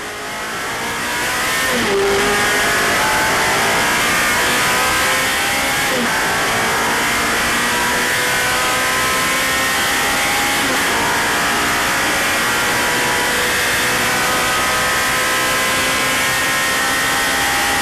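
On-board sound from the Inaltera number 48 race car at the Le Mans Classic 2010, a loud continuous engine roar with rising and falling revs through gear changes, sustained throughout.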